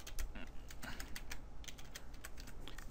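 Fingers type on a computer keyboard in quick, irregular clicks, quiet and close, with no voice over them.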